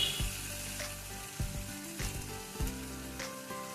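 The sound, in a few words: onion and tomato sautéing in a pan for Kerala fish curry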